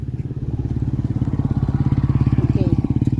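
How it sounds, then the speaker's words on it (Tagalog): A motorcycle engine runs close by with a steady, rapid pulsing throb that grows slightly louder and stronger over a few seconds, heard alone without voices. "May motor."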